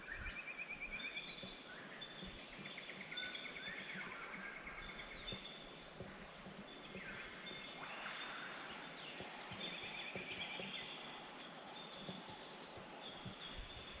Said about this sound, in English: it was so nice waking up listening to all these birds